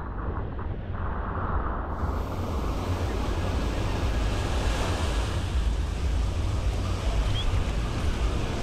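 Ocean waves breaking on the beach at Playa Mamitas in Akumal, a steady, loud roar of surf with wind buffeting the microphone throughout, no voices.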